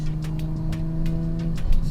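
A Nissan Z sports car drives past outdoors on a warm day, its engine a steady, moderately loud drone throughout with faint intermittent ticks.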